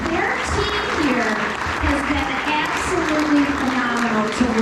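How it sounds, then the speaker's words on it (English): Audience applause at a 2022 community event honoring a venue sponsor, a steady dense wash of clapping sustained for several seconds with a voice carrying over it. "give them a round of applause"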